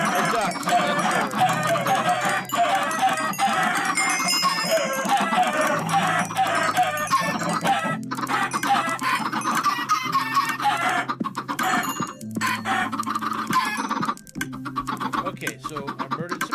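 Chickens clucking in a video game, with game sound effects running throughout and a voice speaking over them.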